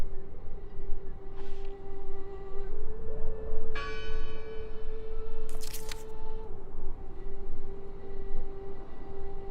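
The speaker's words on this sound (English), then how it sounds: "Listen! The bell!" A church bell tolls several times in the video game Draugen, clear strikes ringing out over a steady low hum and ambient noise, with no voices.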